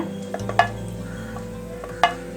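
Dried red chilli and black pepper frying lightly in coconut oil for a pepper chicken gravy, a low steady sizzle with a couple of sharp spoon taps against the pan, close and quiet.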